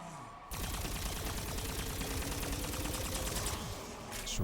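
Rapid automatic gunfire in Black Ops 6 Zombies, a dense sustained burst of shots lasting about four seconds, loud and continuous with no talking.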